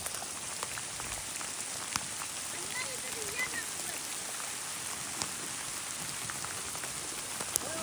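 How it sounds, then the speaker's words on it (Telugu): Heavy rain pours down on a paddy farm in Telangana, a dense, steady hiss of drops striking surfaces with occasional sharper splashes, continuous from start to finish. "ఇక్కడ వర్షం వచ్చేసింది వర్షం"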